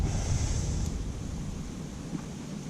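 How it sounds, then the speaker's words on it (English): Strong wind roaring and buffeting the microphone in a constant low rumble at a carp fishing lake, with faint splashing water in the background. "It is extremely windy out here."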